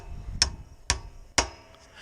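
A hammer sets a nail into wood with three sharp, evenly spaced strikes, each ringing briefly, close and clear with no talking.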